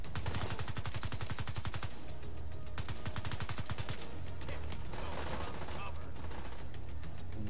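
Rapid automatic gunfire in the shooter game The Division 2, with dense bursts of machine-gun fire that rattle on almost continuously and close up, broken by brief pauses.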